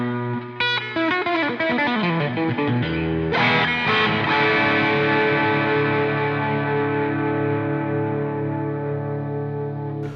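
An electric guitar with its distortion turned slightly down plays a minor blues in B during a live stream. Quick picked notes lead into a strummed chord that rings and slowly fades, all heavily effected with echo.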